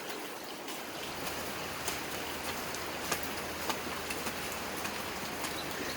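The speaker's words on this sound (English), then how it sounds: "It's a rainy Saturday morning in Kampung" Steady rain falls on a Saturday morning in a Malaysian-style kampung village, a continuous dense hiss with scattered louder drips and patters, fairly close and even in level throughout, with no one speaking.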